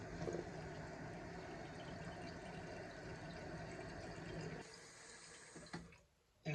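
A toilet tank refilling through a newly installed fill valve, a steady rushing hiss of water running for several seconds before quieting abruptly as the float lifts and the valve shuts off.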